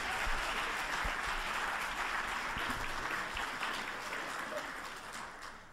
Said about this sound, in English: Our speakers deserve our robust applause.